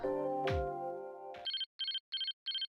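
Phone ringtone in the crime game Again: Interactive Crime Novel: a sustained tonal chime fades out, then four short, evenly spaced electronic ring bursts sound clearly with no talk over them.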